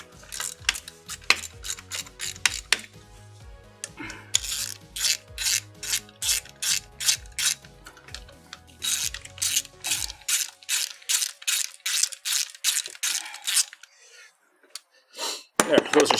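Bolts hand-started into threads in a garage, a steady series of short rasping, ratcheting turns repeating in quick rhythm, close and fairly loud, with a low hum beneath for the first part.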